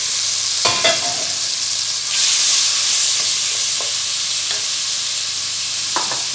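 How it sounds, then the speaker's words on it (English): Chicken with Scotch bonnet pepper and thyme sizzles loudly in a pot, a steady close frying hiss broken by a few clinks and stirring knocks. "You hear it sizzling?"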